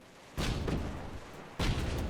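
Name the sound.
aerial torpedoes launching and exploding in Airships: Conquer the Skies video game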